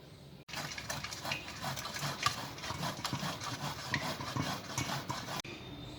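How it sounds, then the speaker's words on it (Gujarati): Boiled potatoes, about 500 grams, grated by hand for aloo paratha, giving a steady, continuous rasping scrape with rhythmic strokes, close and fairly loud, with no talking. "હવે આપણે એને છીણી લઈએ"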